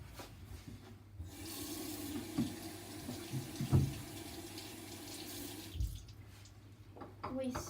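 Hands being washed under a running kitchen tap while children prepare cookies, a steady faucet stream with light rubbing and splashing throughout, voices faintly present in the background.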